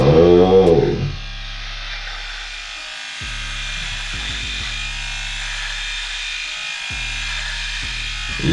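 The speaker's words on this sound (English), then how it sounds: "I'm gonna use this precision clipper, and let's go on through that hairline." A precision hair clipper buzzes steadily along a hairline, a close, continuous electric hum that runs alone with slight shifts in pitch as the blade moves.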